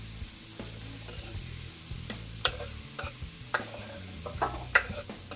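Chopped onions sizzle steadily in a hot pot, with a constant frying hiss and scattered small pops and crackles. No one talks.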